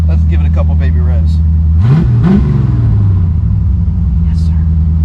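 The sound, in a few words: 1984 Chevy C4 Corvette engine revving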